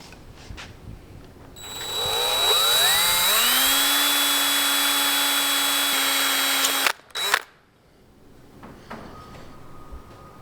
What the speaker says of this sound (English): I'm going to drill a hole in the top side here